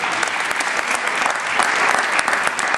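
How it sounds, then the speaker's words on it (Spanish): A church congregation at Casa de Dios Ministries claps for the Lord Jesus, loud and close, with many hands beating in a fast, dense patter that holds steady throughout. "Give a hand to the Lord."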